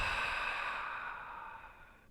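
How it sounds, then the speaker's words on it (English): A deep, slow exhale at the close of a mindful yoga-meditation session, close and breathy, fading steadily over about two seconds into quiet. "Take one last deep awareness breath."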